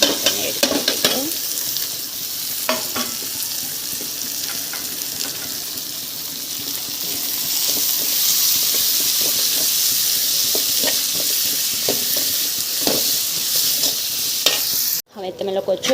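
Chopped vegetables for a cheesy potato paratha filling sizzle steadily in a hot pan while a spoon stirs and scrapes them in repeated strokes, close and fairly loud throughout, with a brief clatter near the end.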